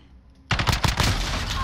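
Gunfire in a competitive 2v2 shooter match: a sudden loud burst of several rapid shots sets in after a quiet moment and trails into a sustained, noisy rattle of combat.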